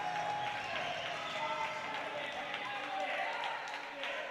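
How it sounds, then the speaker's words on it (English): A crowd cheers and claps at a men's 105 kg classic powerlifting competition, a steady roar of applause filling the hall throughout, with a voice talking underneath. "The crowd loves it."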